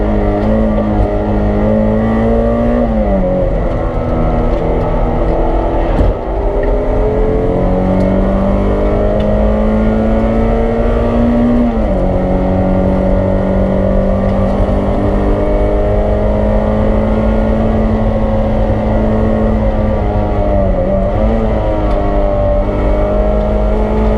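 A race car's engine during a BRSCC Clubsport Trophy race at Oulton Park, loud and continuous from onboard, its pitch rising through the gears with short dips at each shift.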